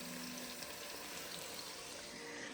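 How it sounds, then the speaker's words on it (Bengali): Chicken fries in a pan at home for a chicken salad, making a soft, even crackling sizzle that holds steady throughout, faint and without talk. "এখানে আমরা চিকেনটাকে ফ্রাই করে নিচ্ছি"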